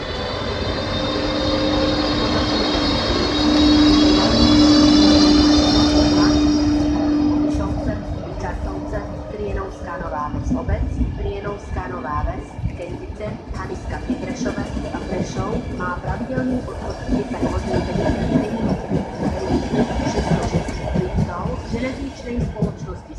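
A train departs from a station platform at Kysak, Slovakia, with a loud, steady rumble and a sustained tonal whine that fades into a rougher, clattering roll as it pulls away.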